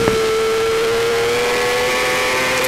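Formula 4 race cars lapping a circuit in the Southern Downs Road Race Series, with a steady high engine whine held throughout and no speech.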